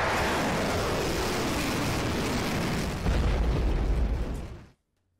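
Explosions from a Russian missile attack on Ukrainian cities make a continuous, heavy roaring blast noise. A deeper rumble swells near the end, then it cuts off abruptly into silence.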